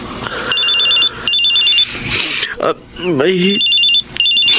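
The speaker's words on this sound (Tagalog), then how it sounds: "tumatawag sa cellphone ko." A cellphone rings with an incoming call, a loud repeating electronic trill in regular bursts, broken up by a person talking and exclaiming between the rings.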